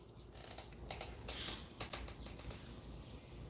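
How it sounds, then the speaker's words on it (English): Birds flapping their wings in short repeated bursts of fluttering, fairly close and moderately loud over a steady background, with no speech. "Cause these goddamn birds around here, boy, they treacherous, Jack."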